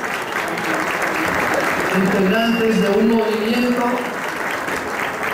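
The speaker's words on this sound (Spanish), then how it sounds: "El aplauso para ellas" Audience applauding members of a Boyacá cycling team in a steady round of clapping, while an announcer keeps talking over it.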